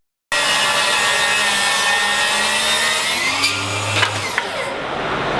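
A Milwaukee M18 FUEL 8-1/4" cordless table saw with a 12.0Ah High Output battery spins up and cuts through wood, a loud steady whine that dips briefly under load near the end before running on.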